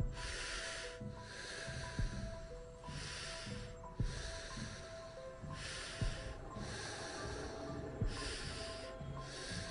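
Heavy, rhythmic breathing blasted right into a microphone over Call of Duty voice chat, harsh hissing exhales roughly every second or two with short gaps between, close and distorted.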